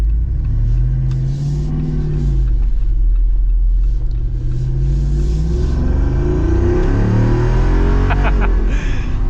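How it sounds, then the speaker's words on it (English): A 2025 Jeep Wrangler Rubicon 392 accelerates hard, its loud V8 rumble rising steadily in pitch and staying close and continuous, with no talking over it. "You could see the pitch was going up a bit because the front end was leaning up from the acceleration."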